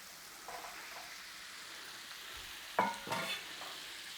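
Cubed beef drops into a hot pan and starts frying, giving a soft steady sizzle with a few sharper clatters and stirring bumps near the end, fairly quiet and with no talking.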